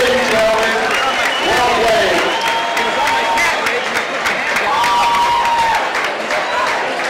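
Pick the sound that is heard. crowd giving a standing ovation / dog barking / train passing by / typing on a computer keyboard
crowd giving a standing ovation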